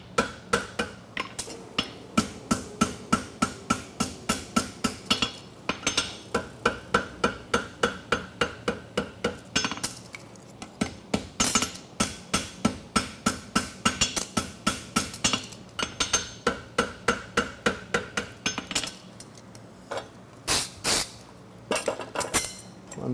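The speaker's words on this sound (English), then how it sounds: "I'll start running my fuller through it." A farrier hammers a fuller through a hot concave egg bar horseshoe bar at a shoeing contest, a fast steady run of ringing metal blows with short pauses between bursts.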